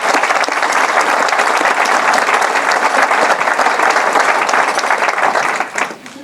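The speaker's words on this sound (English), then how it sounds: "give them all a round of applause if you would," Loud, dense applause from a large crowd at the City of Greenwood State of the City 2018 address, sustained for several seconds before tapering off at the end.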